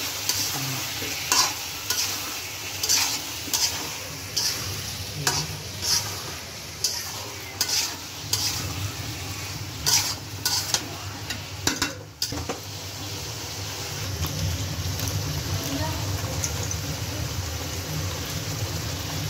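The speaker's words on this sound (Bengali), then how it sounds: "মশলাটা ভালো করে কষিয়ে নিয়ে তারপরে দিয়ে দেবো সবজি।" Turmeric-spiced paste sautéed and stirred in a pan before okra goes in, giving a steady sizzle broken by frequent spatula scrapes and clinks against the pan, close and continuous, with no one speaking.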